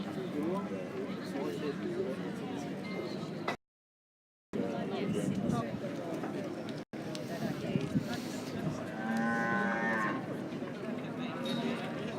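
Brahman cattle low now and then amid a busy stud beef show ring, with constant crowd chatter and an announcer talking over them; a clearer moo-like call rises briefly near the end.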